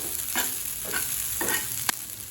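Raw banana slices coated in masala frying in a pan over medium flame, a low steady sizzle with three or four brief scraping stirs and a sharp clink near the end, close and quiet, no voices.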